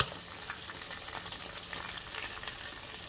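Ingredients with frying oil, garlic salt and white pepper sizzling in a pan while being stirred, a steady soft crackle and hiss with small scraping clicks throughout, fairly quiet and with no talking.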